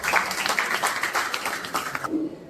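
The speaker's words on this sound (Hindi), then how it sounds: "एक बार जोरदार तालियां बजाएं" Enthusiastic clapping rises from the crowd at a women's awards ceremony in Northeast India, a brisk burst of applause that stops abruptly after about two seconds.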